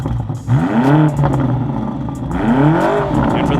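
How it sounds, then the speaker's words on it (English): A BMW G90 M5 fitted with a full exhaust from the downpipe back revs twice, each rise swelling into a deep roar and falling away, close and loud with no talk over it. "So we've fixed the exhaust note on the M5"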